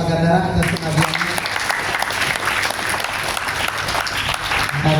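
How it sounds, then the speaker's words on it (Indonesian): Applause from an audience at a Depok city gathering for a breakfast-the-fast event, honoring a long-serving official; steady clapping fills the clip, with a speaker's voice briefly at the start and end. "dan tepuk tangan buat Pak Gandara atas pengabdiannya"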